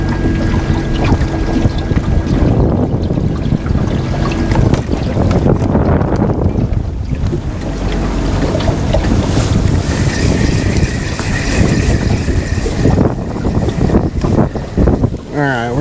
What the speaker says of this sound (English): This wind is really pushing me around.